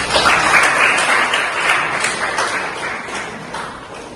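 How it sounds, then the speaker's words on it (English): A crowd applauds steadily for about four seconds, a dense wash of clapping that slowly tapers off. "Give them a great clap."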